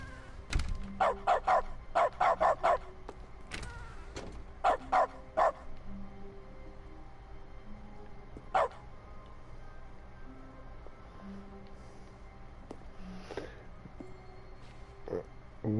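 A dog barking in The Stanley Parable video game each time a button is pressed: clusters of sharp, close barks early on, then a few isolated yips spaced out over a quiet background.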